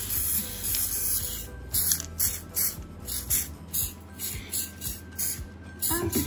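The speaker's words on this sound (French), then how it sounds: "je vais appliquer ma petite bombe" An aerosol spray can hisses in short repeated bursts onto a customised teddy bear, about eight close, loud sprays separated by brief pauses.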